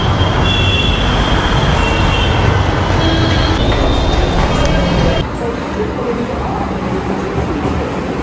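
Kolkata metro train at Maidan underground station, a loud, close, continuous rumble and rattle of carriages with high wheel whine, easing slightly partway through.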